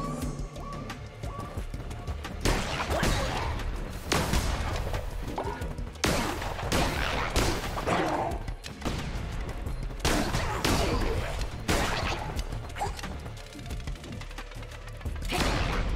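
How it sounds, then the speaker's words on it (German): Weapon shots fire in the Cult of the Lamb video game, a rapid series of loud, punchy bursts repeating every second or two over a busy bed of game effects and music. "Den Schuss müssen wir auf jeden Fall leveln."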